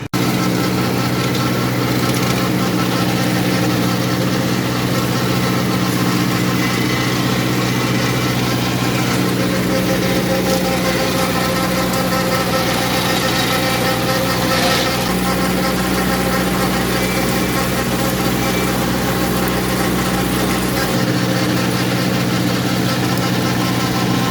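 A small Mitsubishi MT 2201 tractor engine idles in a hayfield, a loud, steady, close diesel drone with a constant low hum and vibration that changes little over the whole stretch.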